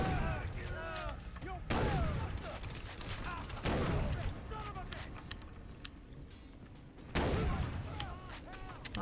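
Shotgun blasts in Far Cry 3, three loud booming shots spaced a couple of seconds apart over game ambience, with someone talking between them.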